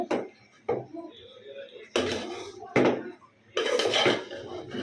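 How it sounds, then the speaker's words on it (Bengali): Bhuna khichuri turned over in a cooking pot with a metal spoon: several loud, separate scraping and clanking strokes with quieter pauses between them, all close by. "আমি একটু সুন্দর করে নেড়ে চেড়ে দিচ্ছি"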